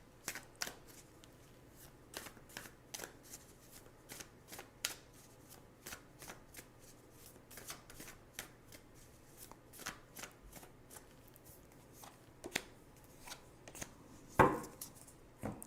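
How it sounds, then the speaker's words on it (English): Tarot cards being shuffled by hand in repeated quick riffles and soft slaps. The sound is close but quiet, with an irregular rhythm and a louder flurry near the end. "So now I'm going to choose 2 cards as possible outcomes."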